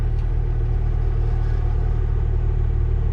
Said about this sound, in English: Can you hear the high rumbling of the truck? That's the regen still going.